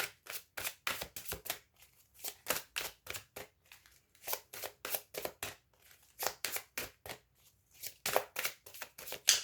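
Tarot cards are shuffled by hand in quick, crisp riffles, a soft but steady run of papery bursts with short pauses between groups.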